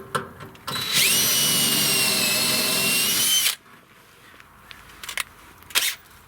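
A power drill whines loudly at a steady high pitch for a few seconds, drilling for a pushbar on a 1969 Dodge Charger, then cuts off as the bit breaks, followed by a couple of sharp clunks.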